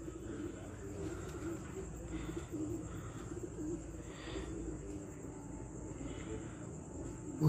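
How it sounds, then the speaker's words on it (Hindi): Pigeons coo softly in repeated low throaty calls over steady outdoor background noise. "छत उस्ताद मिठू लाली साहब के 5 कबूतर बैठ गए"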